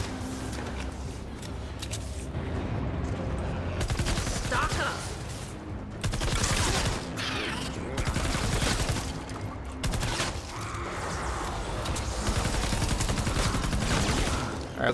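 Gunfire in Fortnite, sustained volleys of rapid shots mixed with mechanical clatter and brief pauses, loud and continuous over roughly fifteen seconds, with some talk underneath.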